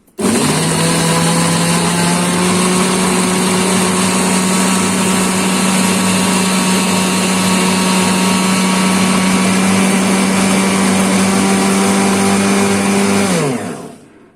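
A food processor minces onion for kibbeh with a loud, steady motor whir that holds unbroken for about thirteen seconds and then winds down and stops.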